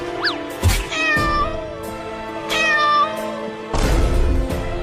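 Cartoon cat meowing twice in a short comedy cartoon, clear rising-falling meows standing out over a steady music bed, fairly close and loud.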